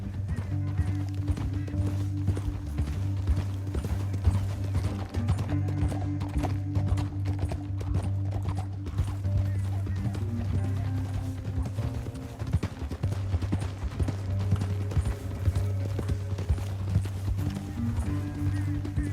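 Hooves of horses gallop through a canyon in Red Dead Redemption 2, a steady, fast clip-clop rhythm running throughout, with low rumbling and occasional voices over it.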